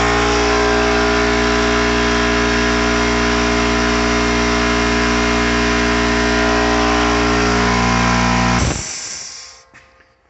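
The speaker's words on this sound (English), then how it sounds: "Now my old compressor is pretty loud when I run it." An old shop air compressor drones loud and steady with a deep mechanical hum, then shuts off and winds down into near silence.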